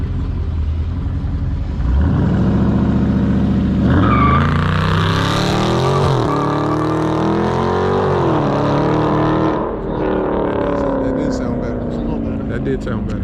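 A 2020 Dodge Charger Scat Pack Widebody launches hard, its V8 swelling from a loud idle into a roaring rev with tire spin, pitch climbing and wavering before easing off; voices talk nearby.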